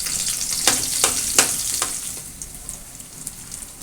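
Onions frying in a pan, a continuous sizzle broken early by several sharp spatula scrapes that fade into softer crackling.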